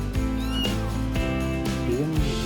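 A 30-day-old kitten meows a few times over a constant humming background, with the cries short and moderately loud.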